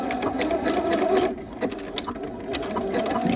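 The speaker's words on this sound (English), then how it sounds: "using a zigzag stitch. And we're just gonna stitch down the band" A sewing machine runs steadily in a continuous zigzag stitch, stitching down the waistband of fall joggers at a 5/8 inch seam allowance, the motor's whir close and even throughout.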